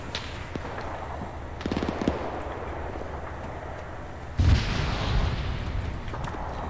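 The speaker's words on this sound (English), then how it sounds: "I'm launching mortars on those guys." Mortar fire and explosions in a war video game battle at Chef du Pont bridge: scattered distant pops and rumbling, then a heavy, close blast followed by a churning roar of further detonations.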